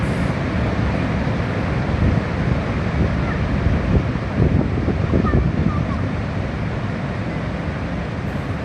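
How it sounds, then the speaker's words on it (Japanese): Niagara's Canadian Horseshoe Falls roars as a tour boat pushes toward it, a dense, steady wash of water and wind noise filling the whole stretch without pause. "今カナダ滝に船が突っ込んでいきます。"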